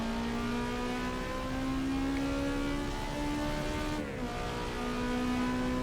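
Simulated race car engine in Assetto Corsa EVO, a loud sustained engine note holding steady and rising slightly, with a brief dip and gear-change shift before climbing again, heard alone without talk.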